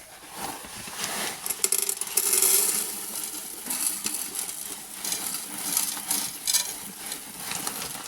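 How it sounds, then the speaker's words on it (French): Argex clay balls pour and scatter into a terrarium being set up for a Phrynus maesi whip spider, a loose rattling cascade of small hard pellets with clicks and rustles, close, continuing for several seconds without talk. "Alors on va commencer tout d'abord avec les billes d'Argex."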